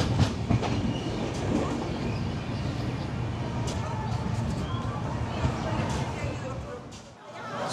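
The 13054 Kulik Express rolls along the rails into Barsoi Junction with a steady, close rumble and scattered clicks of the wheels, running continuously and fading briefly near the end.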